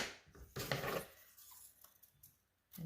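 Scissors snipping strips of paper into small mosaic pieces for a landscape art project, a few close, crisp cutting and rustling strokes separated by short pauses.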